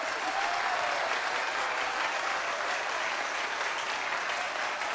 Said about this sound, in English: I need you ladies to give yourselves a round of applause.